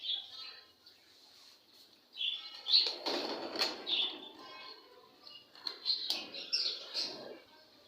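Pet parrots in a home cage, bursts of wing flapping with sharp chirps and tweets, close and intermittent, louder in the second half, with no speech.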